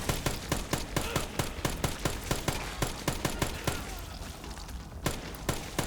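SMG fire in Dead Rising Deluxe Remaster, a steady run of rapid, evenly spaced shots, fairly quiet, with a brief lull before a few final rounds.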